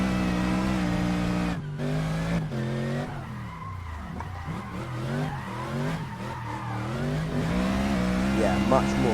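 A BMW M3 drift car in the Assetto Corsa racing game, a loud sustained engine howl rising and falling through revs with long squealing tire slides, continuous and close.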